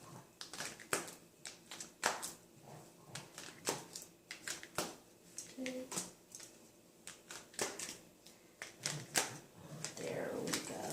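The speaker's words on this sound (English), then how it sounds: "I love shuffling like this because I really do get them jumping." Sharp riffling and snapping of cards being shuffled in repeated bursts, close up and fairly quiet, with a few soft thuds between.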